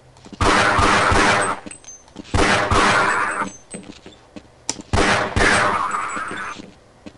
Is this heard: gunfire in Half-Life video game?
yes